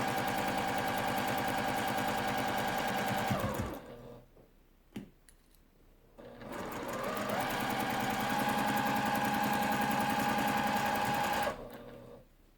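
A sewing machine runs steadily while chain-piecing quilt blocks, a long even stitching hum that stops briefly with a click in the pause, then resumes for another sustained run before halting.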